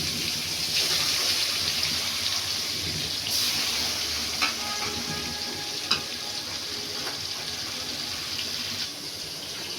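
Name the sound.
fish frying in oil in a wok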